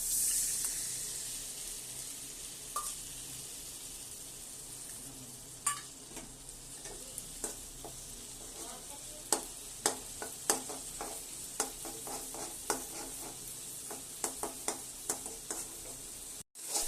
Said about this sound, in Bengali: সর্ষেটা একটু ভাজা ভাজা করে নিলাম